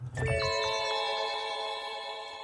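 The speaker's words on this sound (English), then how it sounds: "Now I'm hearing some bells." A bright bell-like tone from a sampled music loop rings out and sustains, several clear pitched overtones shimmering and slowly fading, alone and close.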